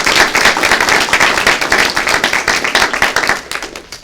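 Audience at a school board meeting applauds staff and students, loud, close clapping from many hands with distinct individual claps, sustained then tapering off toward the end.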